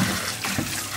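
Tap water runs steadily while pork liver is rinsed in a kitchen, a continuous close splashing wash with no talk.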